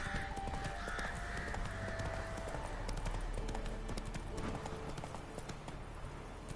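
Roach the horse from The Witcher 3 galloping, a fast continuous clip-clop of hooves throughout with a brief whinny, set among game ambience and a faint voice.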